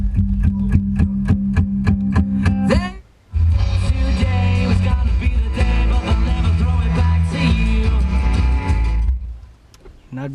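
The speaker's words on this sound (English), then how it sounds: "So I'll just stick around and listen to whatever pop music comes on the radio" Pop music from the radio of a 1995 Corvette C4, loud inside the cabin, starting with a rhythmic beat, briefly cutting out, then a fuller mix that fades near the end.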